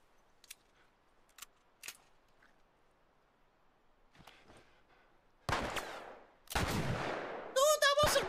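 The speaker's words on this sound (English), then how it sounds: "No, that was a good fucking shot!" Gunfire in the video game The Last of Us: a few sharp isolated shots over quiet background, then louder bursts of firing and noisy action near the end, with a raised voice briefly audible.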